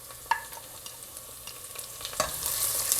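Onion, garlic, thyme and curry leaf frying in a pan over low to medium heat, stirred with a few scraping knocks over a steady close sizzle that grows slightly louder.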